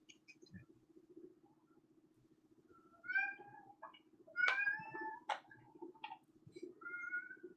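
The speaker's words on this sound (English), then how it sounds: "I swear that cat just likes to hear the sound of his own damn voice" A male house cat meows loudly in a run of drawn-out, wavering calls over a low steady background hum, some close together and rising in strength toward the middle.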